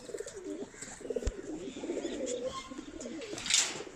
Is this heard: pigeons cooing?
yes